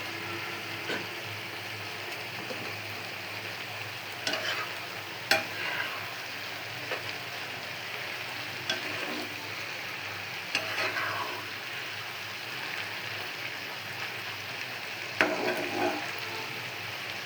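Green chili and coriander leaves sizzle in a pan as they fry, a soft, steady hiss broken by several louder stirring scrapes every few seconds, with no one talking.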